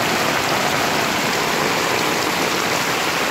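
Floodwater after the first rain in the small town of Ambulu rushes like a river, a loud, unbroken wash of flowing water and spatter close by.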